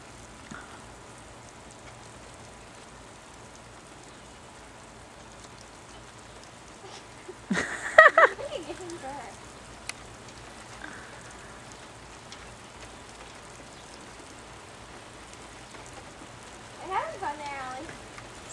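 Water from a lawn sprinkler patters steadily like rain on a yard, with brief bursts of children's voices and squeals breaking over the continuous spray.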